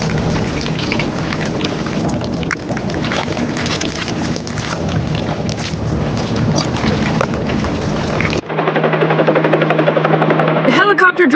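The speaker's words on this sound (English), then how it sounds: "The helicopter drops the rails from above." Helicopter sound in a miniature concrete road construction scene with a toy tractor road roller and JCB, a steady broadband rotor-like whooshing roar that shifts to a thinner droning hum near the end, loud and continuous.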